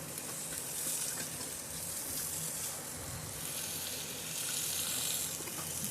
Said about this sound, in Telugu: పసుపు కొంచెం గోలిన తర్వాత బుడకాకరకాయలు వేసుకొని ఫ్రై చేసుకోవాలి.